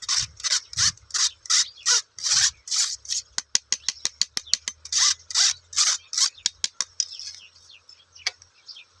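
Rice being stirred through a pot of village-style free-range chicken biryani, giving repeated close scraping, rubbing strokes in a steady rhythm that quicken into short rasps, loud and alone without talk.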